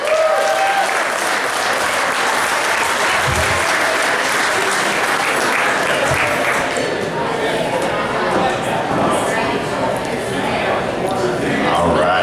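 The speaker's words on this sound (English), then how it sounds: "let's have another round of applause for our friend, Richard Montano" Sustained audience applause for a comedian finishing a stand-up set, steady and full throughout, with a few cheers and voices mixed into the crowd noise.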